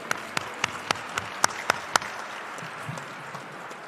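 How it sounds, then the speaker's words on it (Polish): An audience applauds a carol performance with steady, moderately loud clapping, a few sharp individual claps standing out early before the sound thins toward the end. "Oraz pani Magda i akompaniament, również wielkie brawa."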